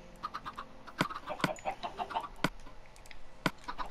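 Chickens clucking in the video game Minecraft, a few short sharp clucks scattered over a steady low background, moderately close and fairly quiet.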